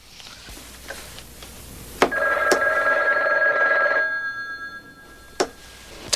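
An old telephone rings once with a steady bell tone lasting about two seconds, framed by sharp clicks and knocks in a quiet room.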